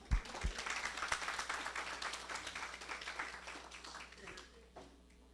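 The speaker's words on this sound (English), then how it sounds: "Give them a round of applause." Hall audience giving a couple a round of applause, a few sharp claps up front before a broad, even patter of many hands builds, then thins and fades out near the end, with faint voices murmuring underneath.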